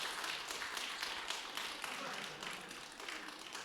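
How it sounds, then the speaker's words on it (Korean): A church congregation at a New Year revival service breaks into applause, a dense, steady wash of many hands clapping with no gaps, moderately loud and fading slightly at the end. "박수 한번 하겠습니다."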